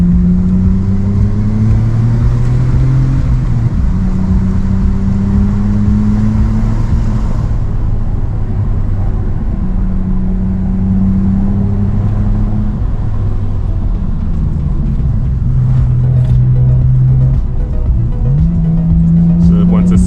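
Nissan R34 GTR engine revving loudly and continuously on a tightening Mt Fuji hillclimb, pitch climbing and dropping through downshifts into first gear, with a driver talking over it.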